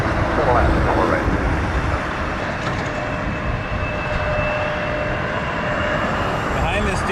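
An airliner lands at Toronto Pearson airport with a loud, continuous broadband roar that holds steady for several seconds. Radio chatter runs beneath it.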